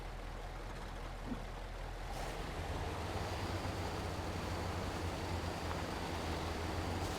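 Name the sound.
truck driving across a river in video game Mudrunner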